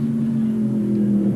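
Australian Super Sedan race cars lapping Winton circuit in 1986 through a right-hand corner at the end of the pit straight, giving a steady, loud engine drone with a strong sustained tone and no speech.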